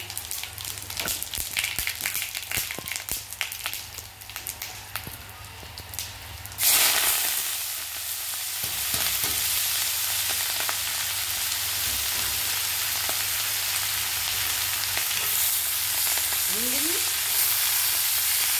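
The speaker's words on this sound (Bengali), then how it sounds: "জিরে আর শুকনো লঙ্কা দিয়ে দেবো কপির ডাঁটা ভাজার জন্য" Faint stirring gives way to a sudden, loud burst of oil sizzling as cumin and dried red chillies hit the pan, then cauliflower stems fry with a steady hiss.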